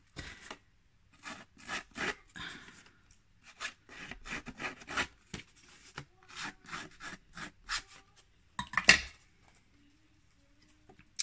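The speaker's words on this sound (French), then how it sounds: "je vais percer mes trous avant de coller" Holes are pierced in a round baby album in a quiet room, with short scratchy rasping bursts in uneven clusters, fairly close and soft, followed by a sharp snap near the end.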